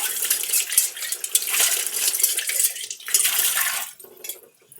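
Brass pooja vessels being washed under a running tap, with a steady rush of water splashing over metal and a few brief pauses in the flow near the end.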